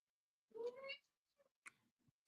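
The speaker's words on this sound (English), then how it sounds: "Shut up, kitty." A domestic cat gives one short, rising meow, faint and close in a quiet room, followed by a few soft clicks and taps.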